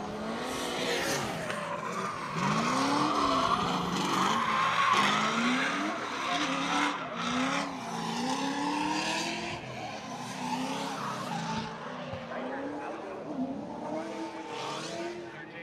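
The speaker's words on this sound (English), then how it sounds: "At that cone, the drivers have to break into their drift." Drift cars sliding through a round of a drifting competition, wailing tire squeal that rises and falls in long sweeps over engine noise, heard from a moderate distance and continuous throughout, with no voices.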